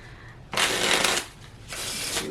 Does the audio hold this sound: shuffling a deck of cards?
yes